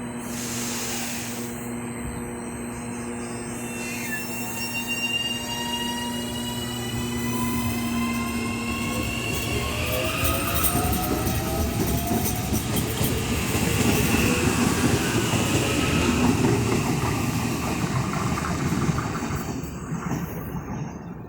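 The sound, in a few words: riding Auckland AM class electric train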